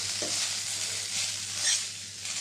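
Stuffed okra masala is stirred in a pan under a constant, close frying sizzle, with soft scraping swells from the spoon and a brief brighter clink near the middle.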